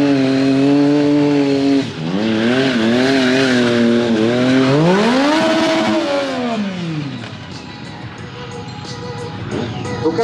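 A drifting motorcycle at a motorcycle show in Montbéliard, close and loud, its engine revving up and down in wavering sweeps, then rising and falling in one long swell before fading into hissing tire noise.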